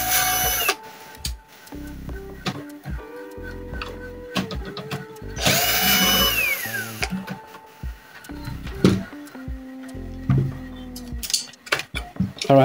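Screws being taken out of a Kyocera printer during repair of a C6050 error: a busy run of metallic clinks, taps and scraping handling noises, with brief whirring tool bursts, close and fairly loud throughout.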